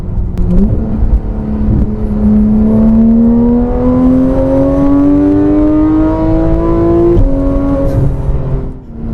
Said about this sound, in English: exhaust that totally awakens the sound of this vehicle and allows that flat six to completely scream